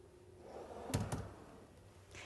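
A drawer on a pediatric supply cart being opened or closed, a fairly quiet sliding movement ending in two close knocks, heard alone in a quiet room.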